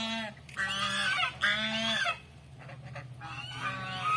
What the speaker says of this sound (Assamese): পুখুৰীটোৰ পৰা যাই কিনে দেখা পালো ধুনীয়া ধুনীয়া হাঁহ আছে